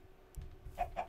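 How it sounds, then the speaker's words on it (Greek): A Minecraft chicken gives two short, soft clucks close together near the end, preceded by faint rustling, quiet overall and with no voices. "Να, ένα κοτόπουλο"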